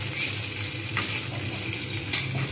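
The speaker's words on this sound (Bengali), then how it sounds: "হালকা করে এটা জাস্ট একটু এপিট ওপিট করে ভেজে নিলাম।" Jackfruit seeds fry in a pan, giving a steady dense sizzle with soft scraping and stirring noises, fairly close and with no voices.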